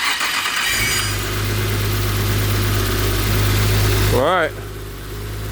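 Car engine cranking and catching, then idling with a steady low rumble right after a fuel pump replacement; close and loud, a brief rev-like sweep near the end, with a person speaking briefly over it.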